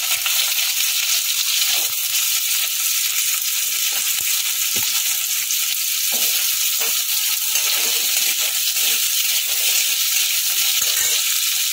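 Potatoes fry in hot oil with tempered spices in a pan for a Bengali jhinge aloo posto, a loud, dense, continuous sizzle with faint scraping and stirring underneath and no voices.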